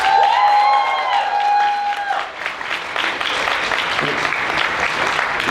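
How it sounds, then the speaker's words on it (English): Convention crowd at a masquerade awards night applauding and cheering, loud massed clapping with whoops after a fading sustained tone at the start. "So clap for yourself."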